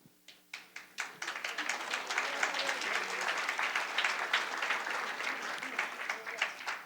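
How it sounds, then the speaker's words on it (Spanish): Audience applauding the Paraguay delegation at a religious gathering: a few scattered claps build into full, steady applause, with some louder individual claps standing out near the end. "El aplauso es para la delegación de Paraguay que está hoy aquí con nosotros."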